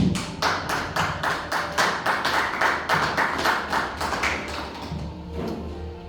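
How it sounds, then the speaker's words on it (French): Rhythmic, unison clapping from a congregation during a French-language sermon, loud and close, a regular beat that carries on for several seconds before tapering off. "Je crois que tu allais applaudir."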